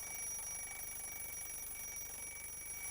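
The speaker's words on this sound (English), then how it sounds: "As we move away, the sound of the alarm gets quieter." A ringing alarm clock bell heard from a distance, a faint continuous rapid ringing with sustained high tones, steady and quiet throughout.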